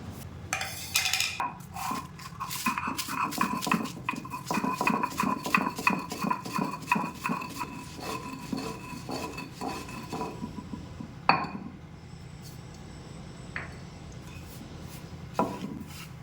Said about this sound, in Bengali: তো মশলা বাটা হয়ে গেছে